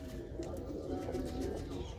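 Soft, low pigeon cooing repeats steadily at close range, with a faint murmur of background noise, from a desi teddy golden pigeon sitting in a mesh enclosure.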